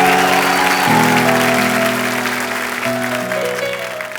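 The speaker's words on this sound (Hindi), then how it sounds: "तो एक बार जोरदार तालियां हो जाएं" A TV comedy show's studio audience claps loudly for the guests, a dense and sustained applause over sustained musical tones that fades slightly toward the end.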